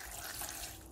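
Water is poured into a pot of sautéed onion and tomato while Chettinad-style chana masala is cooked, a short, steady splashing and running-water rush lasting about a second, close by and with no talk.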